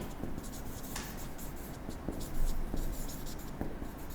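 Pen or marker writing numbers during a maths lesson on large numbers, a faint scratchy stroking with a few light taps, soft and close over a quiet room without speech.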